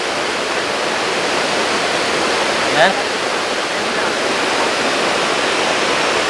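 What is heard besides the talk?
waterfall cascading over rocks, Hidden Falls Luisiana Laguna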